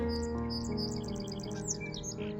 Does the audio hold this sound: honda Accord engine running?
no